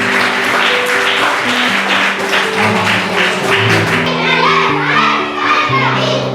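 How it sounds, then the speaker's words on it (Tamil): Children clap together at a vacation Bible school gathering in Coimbatore, a steady patter of hands running under music and voices for several seconds. "எங்கள் செல்ல பிள்ளைங்களாம் ஒரு கைதட்டுங்க பார்ப்போம்"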